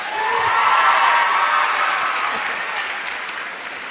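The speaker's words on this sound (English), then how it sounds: "And give them another round of applause." An audience gives a round of applause during a motivational talk, with dense, loud clapping that swells and then slowly tapers off over several seconds.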